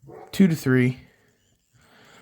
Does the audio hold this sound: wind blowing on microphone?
no